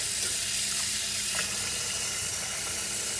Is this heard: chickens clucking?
no